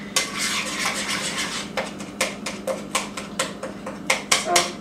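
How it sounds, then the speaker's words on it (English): Cream cheese being mashed with a spoon in a bowl, a run of repeated close clinks and scrapes of metal on the dish, irregular taps growing more frequent toward the end, with no voices. "So I'm just kind of gnashing down with my spoon."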